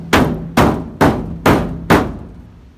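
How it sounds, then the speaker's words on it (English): A hammer smacks a dented pickup truck bed five times in an even rhythm, each blow a loud, sharp metallic thud that rings briefly before the next; no talking. "I'm just going to smack it with a hammer a few times and we'll see if it pops out"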